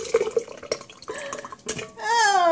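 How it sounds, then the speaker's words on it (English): A smoothie is poured into a blender, giving uneven liquid splashes and drips, followed by a sustained, rising and falling voice at the end. "so we pour it in the blender"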